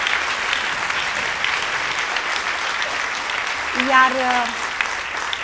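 Steady, loud audience applause at a Romanian commemorative event for a singer, filling the whole span as a dense wash of clapping, with a brief voice cutting through near the end.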